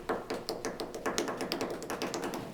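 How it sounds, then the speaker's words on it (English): Quick, evenly spaced taps on a drum kit, a rapid steady paradiddle pattern of alternating strokes, close and clear with no voices. "my drum kit so I can serenade you both with a paradiddle"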